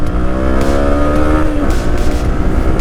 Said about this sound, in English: Let's see what this engine can do.